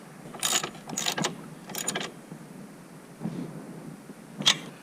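A ratchet clicks in several quick bursts as two 12mm bolts are run down on a Toyota Land Cruiser 200 Series fuel filter housing, with short pauses between bursts and no talking.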